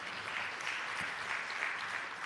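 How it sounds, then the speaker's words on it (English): An audience gives a round of applause at an official public-sector launch event, with steady, moderately faint clapping throughout. "I think the team deserves a round of applause."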